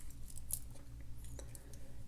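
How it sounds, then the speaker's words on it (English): Swiss Army knife scissors are handled up close, giving a few faint, small metallic snips and clicks against a quiet room hum. "Same scissors, very useful."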